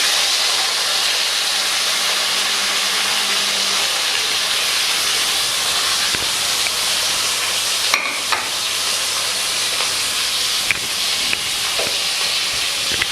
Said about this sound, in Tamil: அடுத்து நம்ம வெங்காயம், பச்சை மிளகா, 2 பச்சை மிளகா, 2 பச்சை மிளகா தான் போட போகிறோம்